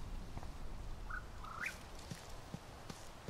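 Two short chirps from a bird in the video game Life Is Strange, a single high note and then a rising one, heard close over a quiet ambient background with faint soft footstep-like taps.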